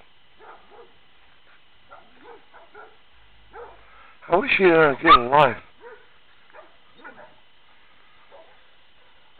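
A burst of loud, rapid dog barking from more than one dog rings out in the middle, with faint speech before and after.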